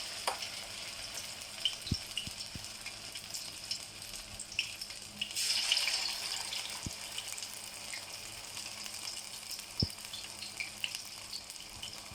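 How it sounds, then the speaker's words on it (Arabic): Iraqi lettuce kebab patties fry in oil in a pan, a continuous quiet sizzle with a brief swell of louder spitting midway and a few faint utensil taps. "هسه حبيباتي رجعت لكم شلون راح نقلي كباب الخس بالطاوة"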